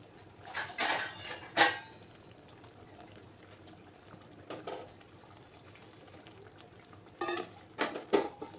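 A pot of simmering mutton masala curry being covered with a lid: a few metallic clanks and scrapes of cookware come in separate bursts over a soft bubbling background, with no talk.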